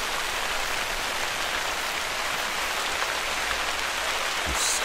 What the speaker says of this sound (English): Look at that rain coming down.